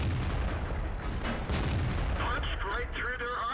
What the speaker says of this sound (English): Just shooting that KB5 in the weak spot in his R2D2